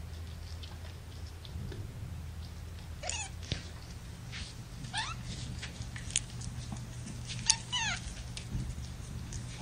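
A young kitten meows and cries in short, high, rising calls spaced a few seconds apart, fairly close but soft, over a steady low background hum.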